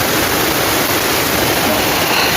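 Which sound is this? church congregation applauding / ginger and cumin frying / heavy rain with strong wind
heavy rain with strong wind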